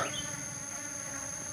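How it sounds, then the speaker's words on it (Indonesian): A steady insect buzz of Apis cerana (Asian honey bees) hums throughout, a thin high drone close by, with a constant whine above it and no voices. "jenis lebah apis cerana"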